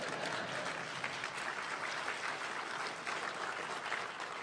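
Audience applause at a Federalist Society event, a dense, steady wash of many hands clapping that fills the whole stretch evenly at moderate level, with no voices rising above it.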